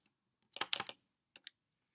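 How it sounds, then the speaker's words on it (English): Keys on a calculator keypad are pressed in a quiet room: a quick cluster of small plastic clicks, then two more taps after a short pause, close and faint, with no talking. "we're going to type that in our calculator"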